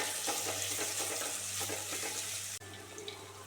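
Ginger, green chili, garlic and onion frying in a pan give a faint steady sizzle with a few stirring clatters, then the sound cuts abruptly and a quieter hiss continues.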